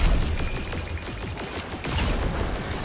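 Rapid Destiny 2 weapon fire aimed at an enemy during a Final Shape developer stream, a dense, continuous rattle of shots with mechanical clatter, loud and close throughout with a brief dip near the middle.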